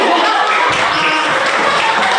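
Schoolchildren in a classroom break into a burst of clapping partway in: dense, steady applause from the whole class, fairly loud and close.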